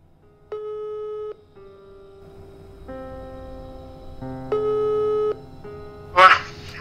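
A phone call's ringback tone: long steady beeps repeating with pauses between them, fairly clear over a faint background hum, ending with a short burst of noise.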